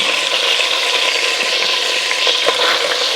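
Chicken pieces fry in a pan for chicken and dumplings, giving a steady, dense crackling sizzle with small pops and stirring scrapes, close and even throughout, with no voices.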